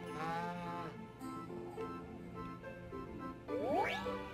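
A cartoonish cow moos in the farming game Harvest Moon: Animal Parade, one drawn-out lowing call over soft background music, ending with a bright rising chime.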